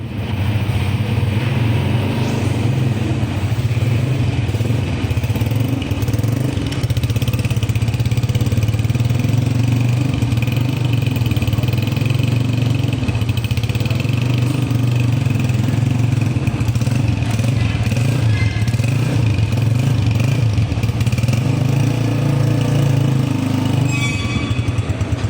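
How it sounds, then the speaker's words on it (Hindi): A 2025 Honda CG 125 motorcycle engine idles steadily, a loud, close, even thrum that holds throughout with slight variations and no voices over it. "तो इस मोटरसाइकिल का साउंड कैसा है वो मैं आपको सुनाता हूँ।"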